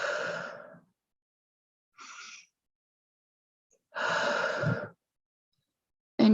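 Slow, deep breaths taken during a guided meditation while lying down, a few drawn-out inhales and exhales separated by silent pauses, close and fairly loud with no talking.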